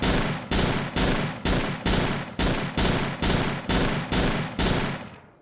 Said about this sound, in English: And now let's see if we just burst fire it.